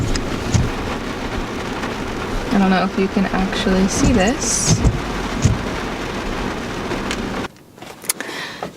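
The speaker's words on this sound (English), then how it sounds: "It's raining" Steady rain patters on a parked car's roof and windows on a rainy day, a dense continuous hiss under someone talking close by throughout.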